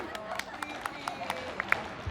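Hand claps from a group playing a game at a wedding sangeet, a string of quick, fairly faint claps in an uneven rhythm.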